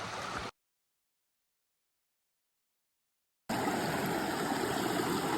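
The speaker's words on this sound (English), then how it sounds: "There's a series of waterfalls on this stream" A mountain stream runs over a series of waterfalls in the Great Smoky Mountains, a dense, steady rushing wash heard close, cut by a few seconds of complete silence before the flow returns.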